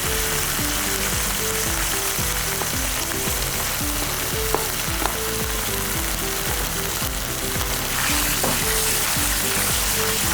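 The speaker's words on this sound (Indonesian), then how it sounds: "Kemudian kita masukkan cabai yang sudah diiris tadi." Sliced chili peppers sizzling loudly in a hot pan of oil, a dense continuous crackle with occasional sharper pops and stirring scrapes, close and steady throughout with no talking.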